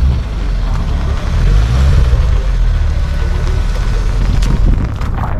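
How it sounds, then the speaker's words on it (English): An ST car's engine revs at a rainy outdoor car show, a loud, steady, rumbling roar that fills the whole stretch with no talk over it. "The ST's revving up."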